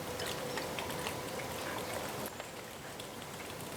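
Home heating oil pours steadily into the gearbox of a vintage Skil saw, a continuous splashing trickle that runs loud and even, then drops off and quiets to a softer dribble partway through; no voices.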